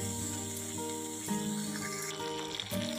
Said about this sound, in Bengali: দেখো এবারে ভালো করে কষিয়ে নেব